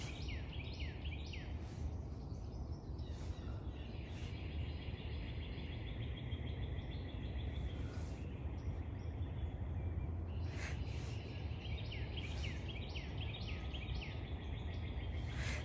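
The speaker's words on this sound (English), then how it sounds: "Okay, so I hear the wren now." A wren calls outdoors near a community garden fence line, bright, rapid chirping trills repeating at intervals, faint and somewhat distant over a low steady background hum.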